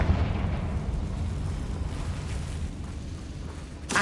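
The Confringo fire spell exploding in the game Hogwarts Legacy, a heavy rumbling boom that rolls on for several seconds, loud and close, ending in a sharp crack.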